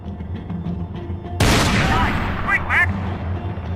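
A shootout in the video game Max Payne 3 bursts in with a loud volley of gunfire, then a few sharper shots ring out afterward over a low background rumble and faint game voices.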